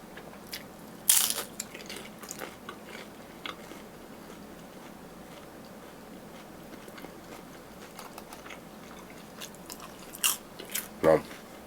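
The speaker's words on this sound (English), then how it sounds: "First bite with no sauce, and then we go in with the sauce." Close, faint biting and chewing of Filipino restaurant food with sauce, a few crunchy bites at the start and near the end over soft room background.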